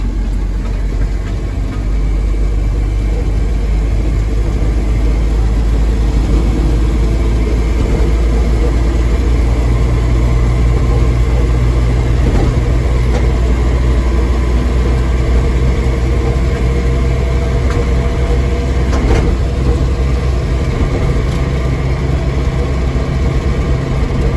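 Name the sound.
1978 Ford F-150 pickup truck driving on the road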